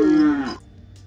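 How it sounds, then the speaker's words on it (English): A single loud, close moo from Mundari tribe cattle heading out to graze, lasting about half a second before fading into quiet background. "Once all the cattle go out for grazing"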